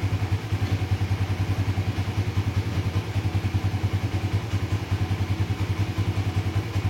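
A motorcycle fitted with an Aracer ECU idles steadily after starting, its engine giving a close, even, rapid low thumping pulse with light mechanical clatter and no voices.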